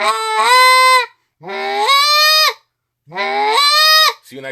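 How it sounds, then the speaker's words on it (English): A reed goose call blown with back pressure from a cupped hand gives three loud, close honks, each rising and breaking into a nasal, goose-like tone, separated by short silences. "I closed my hand up a little bit more, starts to sound goosey"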